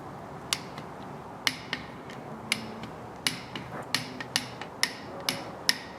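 A torque wrench tightens the rear cover bolts on a 5.3L LS LM7 V8 to 18 foot-pounds in a star pattern. About a dozen sharp, quiet clicks come at irregular intervals over a low background hum.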